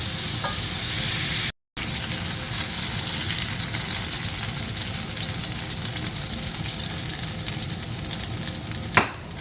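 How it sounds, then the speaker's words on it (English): Meatballs frying in a hot skillet with grease, a steady loud sizzle that runs almost unbroken through the whole stretch, with a brief clink near the end. "We'll just let them cook on that side."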